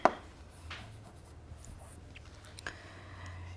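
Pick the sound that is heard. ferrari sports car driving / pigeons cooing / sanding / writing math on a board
writing math on a board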